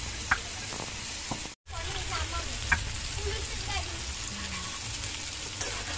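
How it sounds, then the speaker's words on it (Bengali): Rupsha sea fish fry in a pan with a steady, close sizzle broken by a brief dropout and a few sharp clicks of a utensil, with a voice speaking over the sound. "এই মাছগুলো কড়া ভাজি করবো না হালকা ভাজি করবো"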